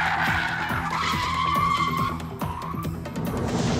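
A Subaru BRZ drifts with loud, sustained tire skidding and squeal over a revving engine, close and continuous throughout.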